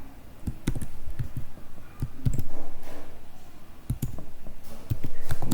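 Code being typed on a computer keyboard: a steady, fast stream of close, loud key clicks with brief pauses, no speech.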